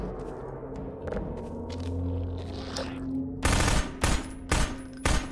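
Submachine gun in the Half-Life 2 video game firing in short broadband bursts, several quick volleys separated by brief gaps, loud and close after a stretch of low ambient hum and faint thuds.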